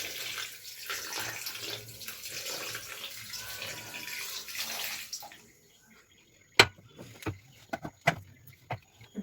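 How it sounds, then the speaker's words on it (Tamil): Water pours into a mixer jar for avocado juice with sugar, a steady splashing stream that stops midway, followed by a few sharp knocks and clatters of the jar. "இது கூட 1 கப்பு தண்ணி ஊற்றிக்கலாங்க."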